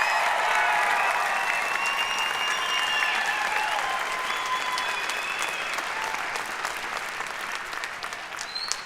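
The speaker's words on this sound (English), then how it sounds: "Come on, let's have an applause for it." A dense, steady burst of audience applause fills a fall convocation ceremony hall, loud and sustained throughout, then easing slightly toward the end.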